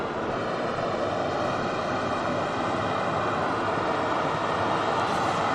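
A Scandinavian airliner arriving from Oslo at Manchester Airport gives off a continuous broadband engine roar, steady and moderately loud throughout, with no talking.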